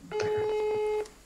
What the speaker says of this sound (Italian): Una piccola telefonata.